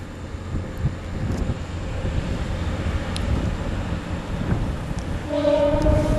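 A train heading off toward Barrow-in-Furness from the lakeside railway station at Grange-over-Sands in the Lake District, a steady low rumble rolling past at moderate distance, with a faint horn-like tone near the end.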